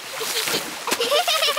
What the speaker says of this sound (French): Mais essaie de ne pas m'éclabousser.